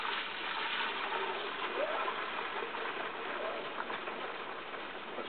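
Soapy garlic wash water pours back into a pan in a steady, rushing gush that stays fairly loud and even from start to finish, with no talking.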